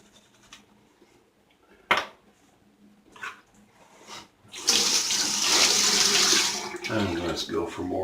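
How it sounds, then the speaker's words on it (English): Water runs steadily from a tap into a sink during shaving lather preparation, preceded by a few clicks and knocks, then a gushing stream that gurgles and changes as it fills. "A little more water in it."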